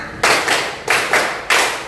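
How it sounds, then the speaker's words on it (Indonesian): A class clapping hands in a counting pattern, five loud, close, sharp claps with short pauses between them, grouped in an uneven rhythm. "Tepuk 1, tepuk 2, tepuk 3, tepuk 4, tepuk 5"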